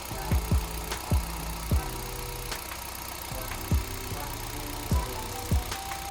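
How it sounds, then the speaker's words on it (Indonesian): An All New Kia Picanto engine idles just after an oil and filter change, giving a steady low hum broken by recurring soft low thumps, with no talking. "Oke, langsung kita tes dengan menyalakan mesin."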